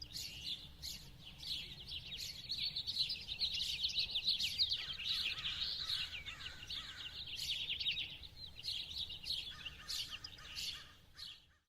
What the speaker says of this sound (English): And those bird sounds are real.